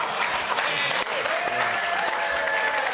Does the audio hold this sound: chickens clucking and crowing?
no